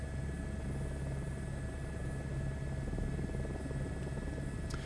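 An H125 helicopter flies over Cradle Mountain, Tasmania, in Microsoft Flight Simulator: a steady, fairly quiet drone of rotor and turbine with a low pulsing thrum and a faint high whine throughout.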